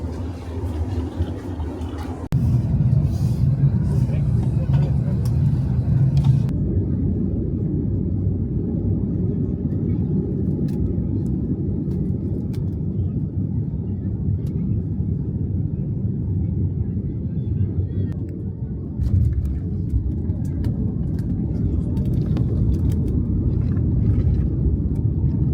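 Steady low cabin rumble inside an airliner during a flight to Munich, a constant broadband drone that fills the whole stretch with little change, loud and close.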